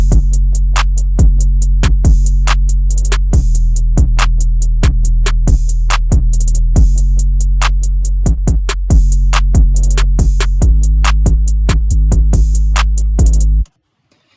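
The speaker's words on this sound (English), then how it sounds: "So then the drums together all sound like this." A full programmed FL Studio drum beat plays loud and dense, with deep sustained bass, steady kicks and crisp hi-hat and percussion ticks running in a bouncy pattern for about thirteen seconds before cutting off abruptly.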